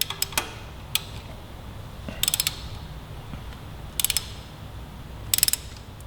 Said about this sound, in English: now we're going to go ahead and begin to torque these flanges down